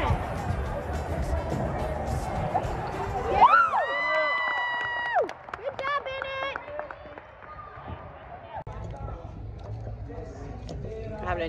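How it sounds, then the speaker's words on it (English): A crowd cheers at a kids' mini basketball game, with shrill children's shouts and cheers rising over general gym crowd noise and scattered voices, fairly close and lively. "every Saturday morning, we cheer on the mini miners and we love it."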